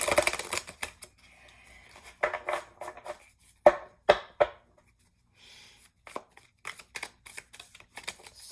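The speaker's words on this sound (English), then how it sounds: "So hard for me to shuffle these cards." Tarot cards being shuffled by hand in a quiet room, soft irregular bursts of riffling and snapping card edges separated by short pauses.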